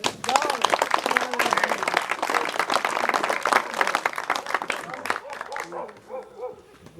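An outdoor crowd at an inauguration in Kato Ampelokipoi, Greece, bursts into lively applause for a woman being honored. The clapping is dense and close, then fades into voices talking near the end.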